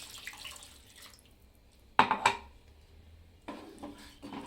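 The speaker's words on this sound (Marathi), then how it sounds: "तर मी आता हे पाणी टाकते." Water is poured into a pan of ground masala while cooking a fish curry, making a short splashing, sizzling burst mid-clip and a second softer pour near the end against a quiet kitchen background.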